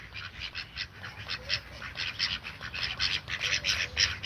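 A flock of ducks quacking repeatedly in rapid, overlapping bursts outdoors, moderately close and continuous with no talk.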